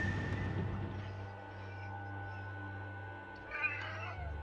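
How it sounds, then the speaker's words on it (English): A cat meows repeatedly in the Enchanted Arms PS3 game, its cries sitting over a steady low game hum and background music, with a brighter call near the end. "Cat's meowing away."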